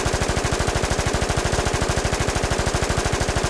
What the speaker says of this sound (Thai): ปืนดีดมาก ปืนนี้ฟังแล้วเนี่ย